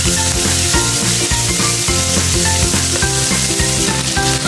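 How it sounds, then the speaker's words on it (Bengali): Tilapia fish pieces fry in hot oil with a loud, continuous sizzle, largely overlaid by rhythmic background music for the whole stretch. "তেলাপিয়া মাছটা ভেজে সুন্দর করে উঠিয়ে নিয়েছি।"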